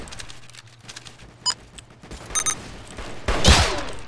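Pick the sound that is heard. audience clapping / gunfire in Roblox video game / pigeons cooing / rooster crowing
gunfire in Roblox video game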